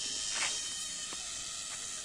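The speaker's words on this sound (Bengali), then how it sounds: "বনের মধ্যে কেমন ঝিঝি পোকা ডাকতেছে" Crickets chirping by day in a hill forest, a continuous high shrill drone that fills the clip at a steady, fairly faint level, with a few soft rustles and no talking.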